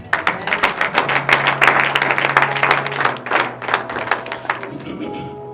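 A church congregation claps together in acclaim of Jesus, a loud rapid burst of applause that holds for several seconds and then fades out.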